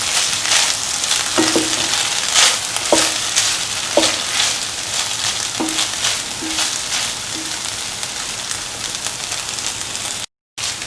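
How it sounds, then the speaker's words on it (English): Cottage cheese tomato rice being stirred in a frying pan, a loud continuous sizzle with a series of spoon clacks and scrapes against the pan, close up, ending with a brief cutout. "Mix thoroughly."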